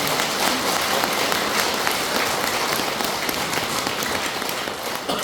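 An audience at a church healing retreat breaks into sustained applause, a dense, even wash of many hands clapping that fills the room for several seconds.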